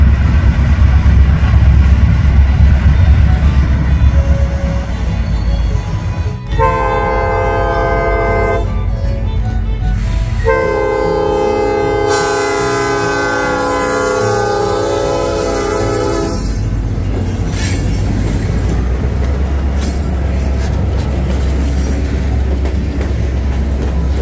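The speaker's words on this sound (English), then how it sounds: "we caught up with the train coming back into the Crab Orchard mine" A freight train of classic GE B23-7 locomotives rumbles steadily near a mine in the Tennessee mountains while a loud locomotive horn sounds in long multi-tone blasts, first one and then a longer series, close by.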